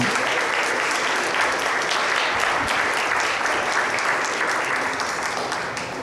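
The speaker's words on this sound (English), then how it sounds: "So round of applause to you." A full audience applauds at a community open house event, with dense, sustained clapping at steady volume that tapers off slightly near the end.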